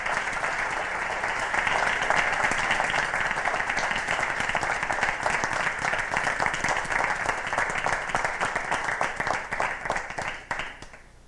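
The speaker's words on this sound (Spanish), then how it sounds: "Fuerte aplauso" An audience at an award ceremony for the Navarra Puerta de Europa international prize applauds loudly and steadily, many hands clapping together before the sound tapers off at the end.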